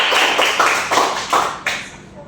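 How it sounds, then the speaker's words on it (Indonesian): A small classroom group gives brief applause for a student named Jasmine: a handful of uneven bursts of clapping that fade out after about two seconds, close and moderately loud. "Kita beri aplaus buat Jasmine."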